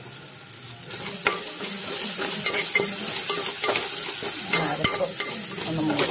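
Ground spice paste of fennel, cinnamon and cloves sizzles in hot oil for mutton biryani while a spoon stirs it, steady frying hiss with repeated scraping clicks of the utensil close by.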